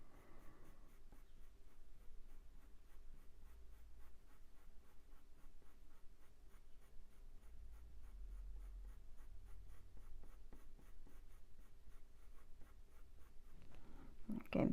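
Coloured pencil scratching steadily across paper while drawing a ginger tom cat, a continuous close, soft rasping texture with brief louder strokes and a bump near the end.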